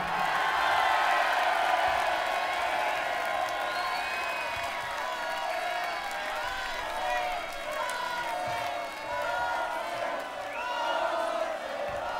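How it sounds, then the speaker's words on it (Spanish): Large crowd at a rock concert cheering, whooping and applauding loudly for a singer, a dense sustained roar of voices and clapping throughout. "Un aplauso para José."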